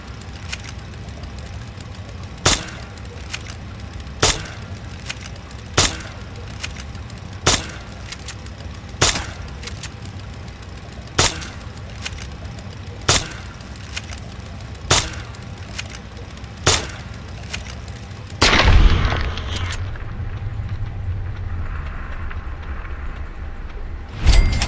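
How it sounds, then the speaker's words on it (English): A BB gun fires at a rat roach in Fallout with a string of sharp, evenly spaced shots over a low ambient hum, about a dozen cracks before a louder rush near the end. "If you can take care of that with your BB gun, just aim and shoot."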